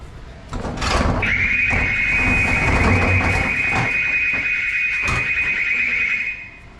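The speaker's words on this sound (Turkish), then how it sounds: "Bu alarm bizim için çalıyor" A loud, continuous electronic alarm tone rings for several seconds in a storage unit just unlocked, shrill and unbroken, starting after a brief clatter and cutting off near the end.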